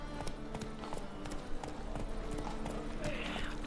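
Horse hooves clip-clopping in a steady trotting rhythm in the video game Witcher 3: Wild Hunt, close and continuous with a low ambient rumble underneath.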